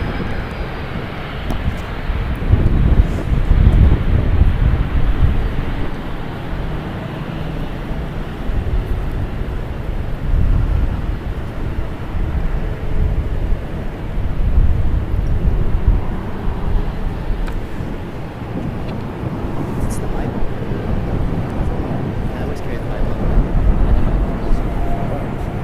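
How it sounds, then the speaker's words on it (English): A seven-year-old Boeing 787-9 Dreamliner sits lined up on runway 28 left at San Francisco International, its engines a heavy, steady low roar. The roar is mixed with wind buffeting across the microphone and stays constant throughout. "It's a Boeing 787-9 Dreamliner, 7 years old. Just took lineup on runway 28 left."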